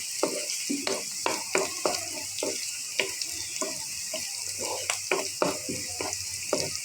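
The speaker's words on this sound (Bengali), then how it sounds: "পেঁয়াজগুলি ভালোভাবে ভাজার পরে" Onions crackle and sizzle in hot oil, with irregular popping bursts over a steady frying hiss, close up.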